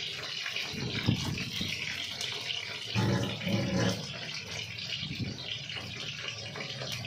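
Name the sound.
washing hands under running tap water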